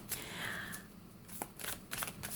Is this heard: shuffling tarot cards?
yes